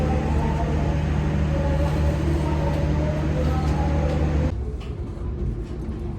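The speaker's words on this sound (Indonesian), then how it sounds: "Jadi ini keretanya lagi berhenti." Passenger train standing at a station, heard from inside as a loud steady engine hum and low rumble that abruptly drops off near the end, leaving quieter ambient noise.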